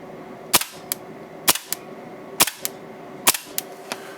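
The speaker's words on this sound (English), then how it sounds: "Just rack it and then shoot it. Watch the muzzle flip." Tokyo Marui Hi-Capa airsoft pistol fitted with AKA upgrade parts, racked and fired: four evenly spaced sharp cracks, each followed by quick mechanical clacks of the slide, close and clear with no talking.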